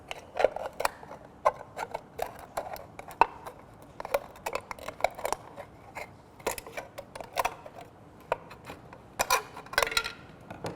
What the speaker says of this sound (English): A pair of strong scissors, something you're not worried about tearing up just a little bit. And then we're just going to cut around the edge of this can.